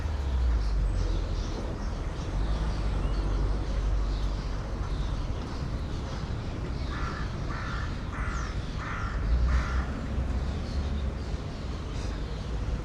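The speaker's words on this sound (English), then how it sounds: "A lot of birds are coming here now." Crows caw repeatedly outdoors over steady wind and background rumble, with a short run of rhythmic harsh calls standing out midway.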